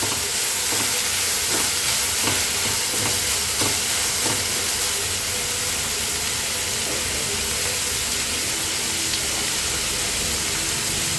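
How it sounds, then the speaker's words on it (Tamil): Paneer pieces frying in a thick gravy give a steady, close sizzle and hiss throughout, with occasional soft stirring scrapes and no talk. "அதுக்காக சேர்த்து இதை நல்லா நம்ம இப்போ ஃப்ரை பண்ணணும்"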